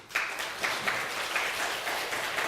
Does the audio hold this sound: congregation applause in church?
yes